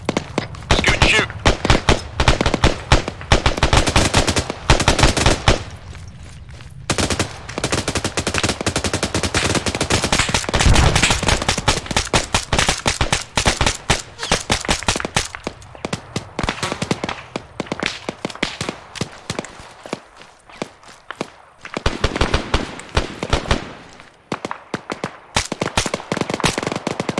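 Rapid bursts of automatic gunfire and single shots in the military shooter ArmA 3, loud and close, with short pauses between volleys and voices calling out over the firing.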